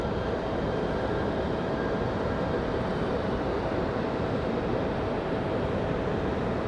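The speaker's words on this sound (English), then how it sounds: "Oh, it was an Army helicopter." A US Army helicopter passing near Raleigh-Durham International Airport produces a steady, broad rumbling roar that holds at an even loudness throughout, with no voices over it.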